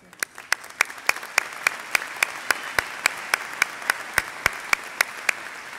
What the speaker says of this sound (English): Clap for you too.